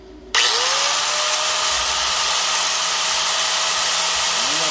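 An electric grinder runs on solar battery power, starting abruptly and then holding a loud, steady high-pitched whine with a faint tone drifting underneath, alone and without voices.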